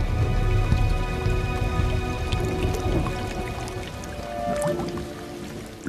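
Heavy rain falls steadily in a dense wash of drops, with occasional close drips and splats. The downpour holds a constant loudness throughout.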